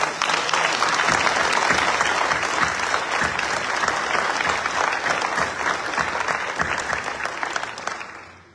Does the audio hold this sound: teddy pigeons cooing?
no